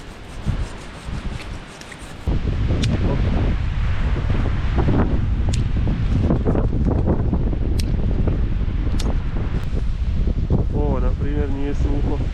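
Strong wind blows at a winter campsite sheltered by a tree, a loud, steady roaring gust that surges in after a quieter start and buffets continuously, with a voice briefly speaking near the end.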